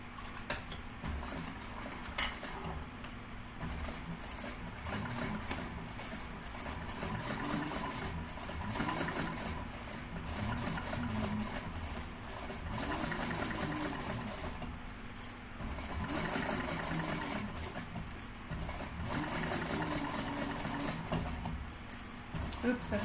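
A sewing machine stitches a tote bag seam in repeated bursts of rapid mechanical whirring separated by short pauses, fairly close and moderately loud.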